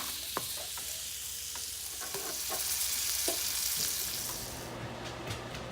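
Seasoned pieces laid seasoning side down sear in a hot pan, a loud, dense hiss that swells and then eases, with a few clicks and clatters close by and no voices.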